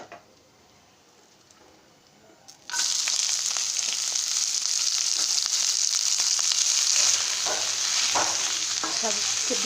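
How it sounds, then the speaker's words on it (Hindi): Cabbage and cinnamon fry in a hot pan for an Odia bandha kobi curry, starting with a quiet stretch and then a loud, steady hiss of sizzling with occasional stirring scrapes, close and without talk. "दालचीनी को एबे टिके फ्राई कर नबा एबे हमें बंधा कोबी पकेबा"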